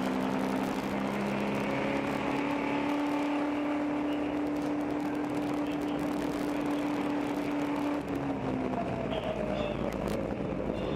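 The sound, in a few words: endurance race car driven in fourth gear without shifting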